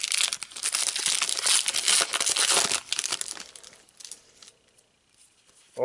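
A Bleach TCG booster pack foil wrapper is torn and crinkled, loud close crackling and ripping for about three seconds that then fades to quiet rustling, with a brief voice at the end.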